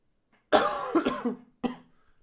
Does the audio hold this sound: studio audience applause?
no